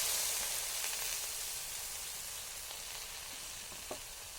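Taro leaves frying in hot oil in a village kitchen give a soft, steady sizzle that fades slightly over a few seconds, with occasional small pops and crackles and no talking.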